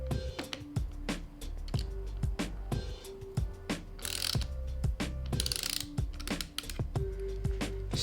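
A 4mm hex key tightens a MotoGadget bar end mirror in a motorcycle handlebar end, giving repeated close ratcheting clicks in quick uneven bursts with brief pauses, and no one speaks.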